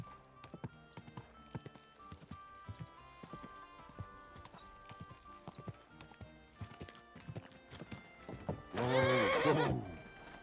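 A horse in a video game clip-clops with steady, faint hoofbeats, then lets out a loud, close neigh near the end.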